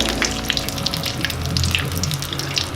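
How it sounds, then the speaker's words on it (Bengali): Battered fish fries in hot oil, Kolkata-style fish batter fry. A loud, continuous sizzling hiss with crackly pops runs steadily throughout, heard up close. "তেলে ভালো করে ভাজতে থাকবো"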